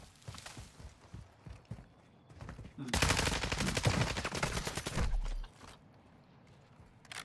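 Rapid automatic gunfire in Call of Duty DMZ near a fire station, a dense sustained burst of several seconds, loud and close, with scattered lighter shots and movement before and after.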